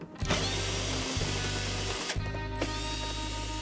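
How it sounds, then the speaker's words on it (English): A power drill runs almost continuously, removing 10mm bolts from a first-generation DSM car dashboard. It whirs loud and close, with a brief pause near the start and a short dip in pitch about two seconds in. "Take out the screw holding the speaker cover on, and then remove this bolt hidden behind there."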